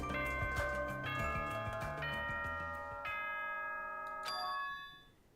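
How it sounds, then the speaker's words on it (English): A school bell chimes in the video game Danganronpa 2, a sequence of bright, ringing electronic tones over background game music, sustained for several seconds and then fading out. "Was that a school bell?"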